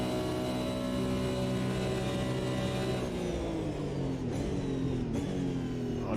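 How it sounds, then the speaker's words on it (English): Caterham Superlight racing car turbo engine in a racing game, a steady droning engine note held throughout with harmonics that rise and then sag, plus a couple of brief higher whooshes near the end. "Did they make the turbo sound louder?"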